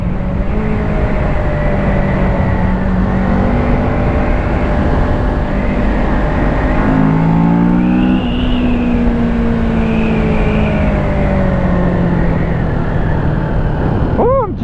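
Kawasaki Ninja 650 motorcycle with a 69-horsepower engine ridden on a road, its engine droning loudly with rising and falling pitch as it shifts and accelerates, buffeted by wind noise close to the rider.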